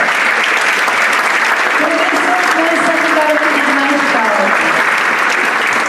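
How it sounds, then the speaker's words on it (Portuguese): Audience applause at the opening of a Carlos Gaspar award ceremony, a loud, dense crowd clapping that holds steady for about six seconds, with some voices cheering over it. "Uma salva de palmas!"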